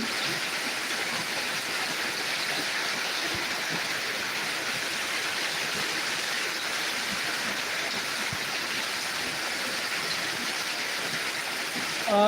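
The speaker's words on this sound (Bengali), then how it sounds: "দেখেন কি পরিমাণ বৃষ্টি হচ্ছে" Heavy monsoon downpour in Dinajpur, a dense, even hiss of rain pouring onto surfaces, continuous and enveloping throughout with no voices.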